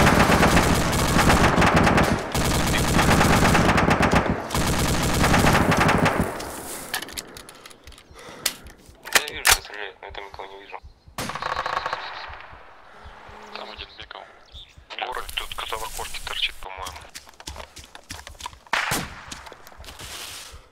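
Machine gun fire in the video game ArmA 2 opens with long loud sustained bursts, then thins into scattered single shots and shorter bursts, with voices talking intermittently.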